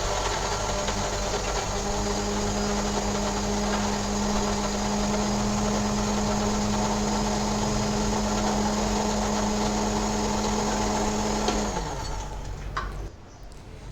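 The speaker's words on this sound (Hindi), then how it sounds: "थोड़ा सा पानी डालकर इनको भी मैं मिक्सी जार में पीस लूँगी ताकि अच्छे तरीके से इनका पेस्ट बन जाए" A mixer grinder whirs loudly and continuously as it grinds tomatoes and green chillies with a little water into a paste, then winds down and stops near the end.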